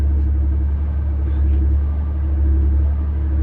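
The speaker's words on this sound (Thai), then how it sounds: "ได้ยินเสียงเครื่องไหม เสียงเครื่องจะดังฮือ ฮือ ฮือชะลอ ชะลอ ชะลอเนี่ย" A Volvo 400 automatic truck engine hums as it slows on a mountain descent near Mae Sot, a loud, steady, close low rumble that continues without a break.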